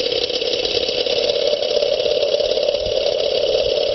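Heat-driven engine running without combustion, solar-powered heat exchange: a steady, loud mechanical whir with a strong droning tone and constant rattle, unchanging throughout, no voices.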